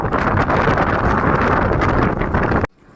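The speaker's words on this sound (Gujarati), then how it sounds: "અહીંયા દરિયો છે ને બહુ ઠંડી ઠંડી હવા આવે છે" Cold sea wind blows steadily and loudly across the microphone on a night bus ride along the coast, a dense roaring rush that cuts off abruptly near the end.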